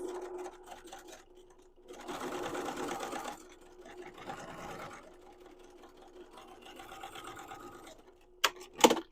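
A sewing machine hems across a duffle bag pocket, its motor whirring in several bursts of stitching separated by pauses, close and fairly quiet, ending with a few sharp clicks.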